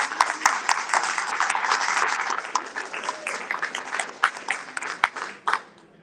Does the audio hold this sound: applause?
yes